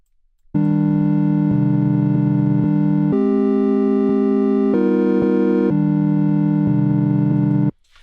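A synthesizer piano patch built from raw oscillators sounds a series of sustained held chords, each with an abrupt start and stop and no natural decay, loud and bright and alone without talk.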